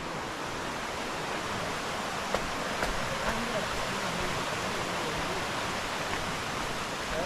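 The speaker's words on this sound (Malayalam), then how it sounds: "വലൈ സൈഡ് ഇതേപോലെ പാറക്കെട്ടിൽ കൂടെ വരുന്ന വെള്ളം" Water rushes over rocks at a waterfall in a forest, a constant roar, loud and close, with a few faint clicks and no talking.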